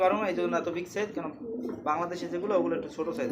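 Pigeons coo in a cluster at a pigeon seller's stall, their low throaty calls running steadily throughout beneath someone talking.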